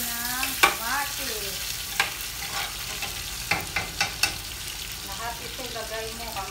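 Tomatoes go into a hot frying pan for an Arabic dish, giving a steady close sizzle with scattered sharp clicks and stirring scrapes throughout. Brief tonal sounds come and go under the frying, with no clear talking.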